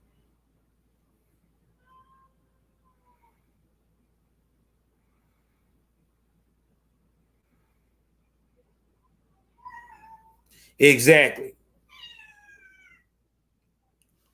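A cat lets out one loud, drawn-out meow, preceded and followed by a few faint chirpy sounds, against otherwise near silence; a single spoken word comes just before.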